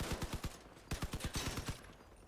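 Bursts of rapid automatic gunfire from a triple Vector weapon build in the vehicle combat game Crossout, two quick volleys of sharp evenly spaced shots with a brief pause between, fairly faint and with no talk.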